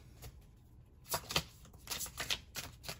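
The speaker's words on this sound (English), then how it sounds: "I'm going to go ahead and just shuffle up the tarot deck here" A deck of cards riffled and shuffled several times in quick bursts, close up, with short pauses between shuffles and no talking.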